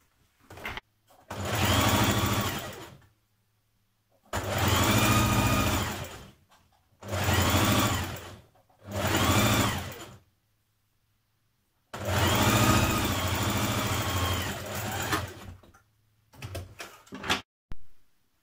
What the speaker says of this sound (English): stitch the front to the back at the side seam